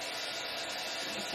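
An air blower or heat tool blows steadily on a paper craft project, a close, even rushing hiss with no pauses.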